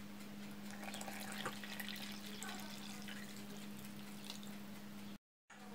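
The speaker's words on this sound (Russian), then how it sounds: "выливаю смесь из воды, лимона и растительного масла" Water, lemon juice and vegetable oil poured into a well in flour and salt for a quick yeast-free bread dough, a steady close liquid trickle with faint drips over a constant low hum, ending in a brief cutout.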